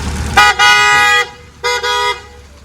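A car passes close by and sounds its horn twice, a longer blast followed by a shorter double toot, loud over a low engine rumble on a rainy street.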